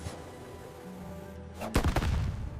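A flare gun fires once, a sharp close burst with a brief crackling tail after a quiet, low hum.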